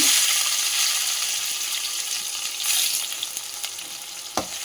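Cumin, curry leaves and capsicum sizzle steadily in a hot pan for a cabbage chapati roll, a dense, loud frying hiss with faint stirring scrapes and a small clink near the end, and no voices.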